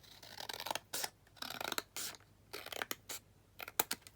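Scissors cutting paper for a junk journal, a series of quiet irregular snips and crisp rustling scrapes, close and alone.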